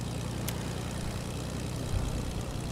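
A propeller airplane engine in a video game drones steadily, a loud low hum with a broad airy roar across the whole stretch and no voices.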